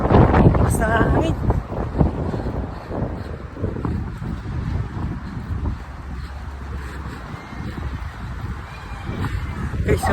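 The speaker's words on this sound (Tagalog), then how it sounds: "Basta hangin." Steady wind roars and buffets the microphone throughout, with a loud rushing texture and occasional gusts; no one speaks.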